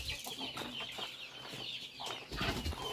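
Chickens cluck on a Philippine farm where turkeys are also kept, a busy cluster of short, fairly close calls overlapping steadily across the whole stretch.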